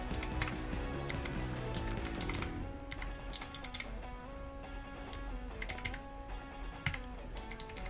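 Keys tapped on a wireless 10-key numeric keypad, a steady run of quick plastic clicks over a low background hum, close and fairly quiet with no talking.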